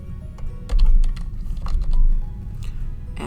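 Fingers type on a computer keyboard, a quick irregular run of close, crisp key clicks with a couple of heavier clustered bursts, no voice.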